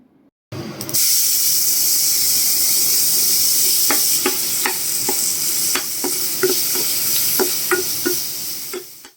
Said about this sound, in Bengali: কালো জিরেটা দশ সেকেন্ড একটু ভাজা ভাজা হয়ে গেলে ওর মধ্যে দিয়ে দেবো পেঁয়াজ কুচি